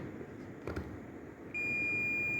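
Multimeter continuity beep on a contactor pole, a single steady high-pitched tone that starts partway through and holds to the end over faint background noise.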